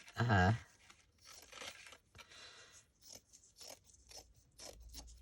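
A short, loud burst of a paper grocery bag tearing right at the start, followed by quieter rustling, handling noises and faint movement.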